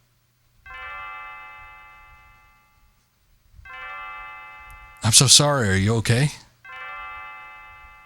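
A repeating bell chime from the video game Chrono Trigger rings in three separate bursts. A voice speaks briefly between the second and third rings.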